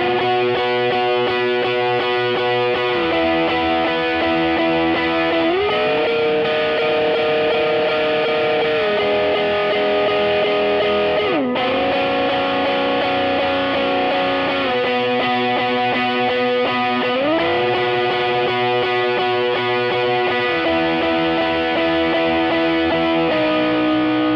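Electric guitar with crunchy overdrive plays a main riff, using 10-46 gauge strings and a 1mm pick, sustained distorted chords shifting in three repeated sections, loud and continuous with no talk.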